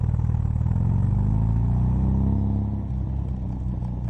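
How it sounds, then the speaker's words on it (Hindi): Car arriving as a sound effect in an animated story, a loud close rumbling engine roar that holds steady and then eases slightly toward the end. "जैसे ही सबने गाड़ी की आवाज सुनी"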